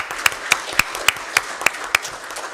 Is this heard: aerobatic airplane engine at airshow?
no